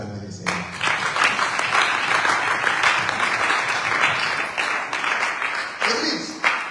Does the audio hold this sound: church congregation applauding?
yes